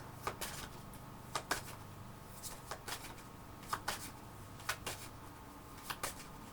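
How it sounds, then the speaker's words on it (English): A deck of cards being shuffled in several quick riffling bursts, crisp and close, with short pauses between them and no talking. "Let me go ahead and shuffle the deck."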